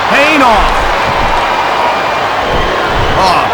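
Wrestling crowd in WWE Smackdown vs Raw 2007 roars in a steady, dense wash throughout, with game commentary voices talking over it.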